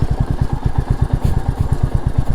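A Royal Enfield Meteor 350 motorcycle thumps along a broken, uneven road, its single-cylinder engine pulsing in a fast, even low beat, close and loud throughout with faint rattles.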